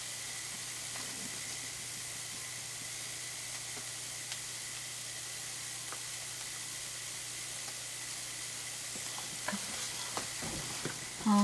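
An antique permanent wave machine sizzles steadily during a hair perm, a soft continuous hiss like frying with faint crackles throughout and a few small clicks near the end.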